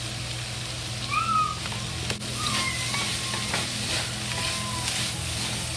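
Vegetables frying in a wok with soy sauce and salt over low heat give a steady, moderate sizzle with soft crackles and a few stirring scrapes, continuous throughout.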